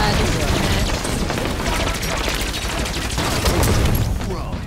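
Gunfire in Halo 5 Warzone big team battle: loud, continuous overlapping shots and bursts with a dense, crackling texture that holds steady throughout, with players talking over it.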